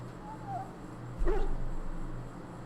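A Mabari war hound in Dragon Age: Origins, sick after swallowing darkspawn blood, gives a brief, soft whimper midway through, over a low steady game ambience.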